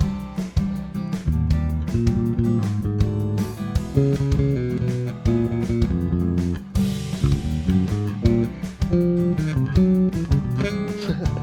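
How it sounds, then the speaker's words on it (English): A low bass line wanders with off-beat rhythms beneath sustained keyboard chords, loud and continuous, with no talking. "Now a bass line that isn't functional might sound something like this."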